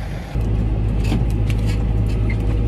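A Fendt tractor drives around a field, its engine a steady, loud, close droning rumble that swells in after a brief pause and holds level with no talk.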